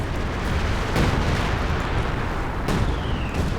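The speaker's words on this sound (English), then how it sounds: "We've got some artillery going down" Artillery shells pounding a battlefield in the strategy game Company of Heroes 2, a dense continuous rumble of explosions with a couple of sharper blasts standing out, loud and without talk.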